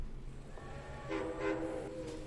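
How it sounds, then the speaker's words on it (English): A train in the Men of War: Assault Squad 2 game sounds its horn as it departs, a faint rumble giving way to two louder horn blasts, with no voices. "And there goes the train."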